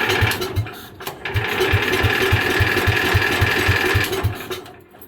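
A Cub Cadet pulling tractor's small engine turning over with a rapid, steady mechanical chugging for a few seconds, loud and close, then winding down, fuel shut off.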